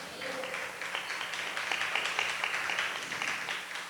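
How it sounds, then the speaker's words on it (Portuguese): A church congregation applauds, a continuous wash of many hands clapping together, steady and moderately distant without any talk over it. "Diga amém e aplauda o Senhor"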